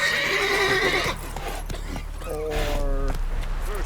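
A horse in the video game The Witcher 3 whinnies loudly, then hooves clop in a quick gallop under steady game ambience, and a second shorter neigh follows near the end.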